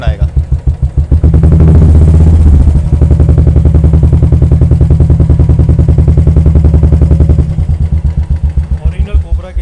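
A Royal Enfield motorcycle fitted with a Swagman silencer rolls at low speed, its steady thumping exhaust pulsing loud and close for most of the clip, rising briefly near the start before settling into an even throb.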